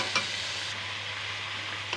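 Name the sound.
mixing vegetables with spices in a pan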